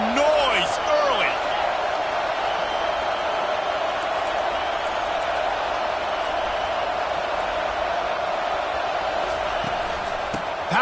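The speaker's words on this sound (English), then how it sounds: "This crowd bringing the energy and noise early" A large stadium crowd at a football game keeps up a loud, steady roar with some whistles and cheers, while a commentator talks over it.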